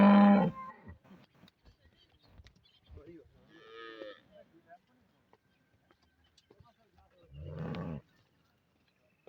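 A Punjab dairy farm cow or calf lets out two deep, drawn-out moos a few seconds apart, close and clear, with sparse quiet voices and farmyard noises in between.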